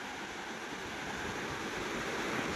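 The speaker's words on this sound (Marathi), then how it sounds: "कसं वाटतं समुद्राच्या लाटांचा खळखळ आवाज" Sea waves wash steadily onto Rapan Dandi beach at Malvan during traditional net fishing, a faint, continuous hiss of surf with no voices.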